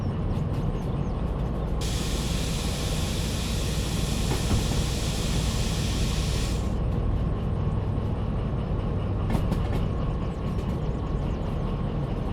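A train rolls along the tracks in the Derail Valley railway simulator, a steady loud rumble with a hissing air burst partway through and a few clicks near the end, with no talking.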